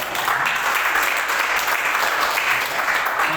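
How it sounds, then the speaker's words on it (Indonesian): A church congregation at GKSI Glory To Glories in Batam breaks into dense, loud, continuous applause that fills the space evenly throughout. "berikan tepuk tangan untuk Tuhan, saudara"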